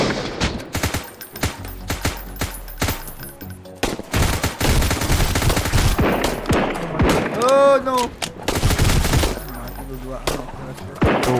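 Gunfire during a nighttime attack in the survival game Sunkenland, loud bursts of rapid shots and impacts mixed with game music and effects, with voices talking over parts of it.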